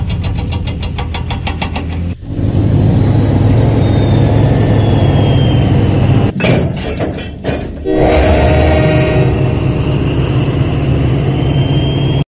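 A diesel train engine from a Thomas & Friends video game rumbles steadily along the tracks, with a brief clattering break midway before the loud, continuous engine drone resumes.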